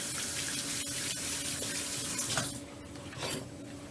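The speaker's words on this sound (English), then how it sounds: "let's just get some water on that" A kitchen tap runs water onto a damp cleaning cloth at a sink, a steady close splashing hiss for about two and a half seconds that then drops away to softer trickling.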